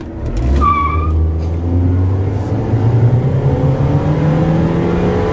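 A car skids with a long tire squeal under braking, engine droning loudly beneath it, close and continuous for several seconds with no talking.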